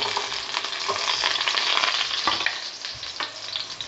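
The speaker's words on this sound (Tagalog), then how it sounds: "ngayon naman mantika. So yan, lagay ko ng bawang sibuyas." Garlic and onion fry in oil for a sweet and sour fish dish, giving a loud, steady sizzle with scattered stirring scrapes throughout and no talking.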